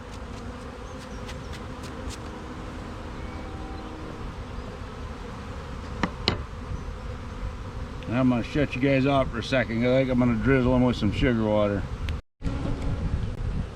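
Honey bees swarm around an open queen mating nuc during a hive inspection, a dense, steady buzzing close by throughout, with someone talking over the second half.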